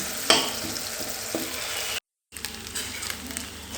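Tomatoes sizzle in a frying pan while being smashed and stirred, with a steady frying hiss broken by scraping knocks and one brief silent gap.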